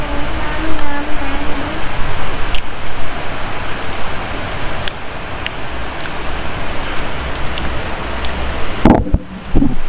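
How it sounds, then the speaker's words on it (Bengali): Steady rain drums on a tin roof in a dense, continuous hiss with scattered sharper drop taps, loud and close, with a brief clatter near the end. "ওখানে একটু টিনের চাল আছে তো তার জন্য একটু বৃষ্টির শব্দটা পাওয়া যায়"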